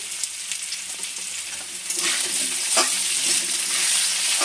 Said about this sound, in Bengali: আমার আলুটা হালকা ভাজা হয়ে গেছে দেখুন লাল লাল করে এসে